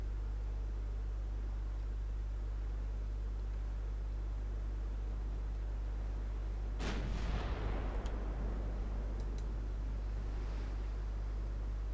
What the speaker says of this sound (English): Get all those turrets firing for a couple good salvos before she disappears out of range.